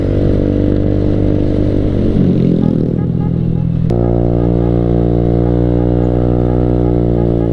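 A motorcycle carrying three riders, one of them a small child, cruises along a road on a southern-route tour out of Bandung. The engine drones loud and steady up close, with a harmonic hum that shifts pitch partway through as the bike changes speed.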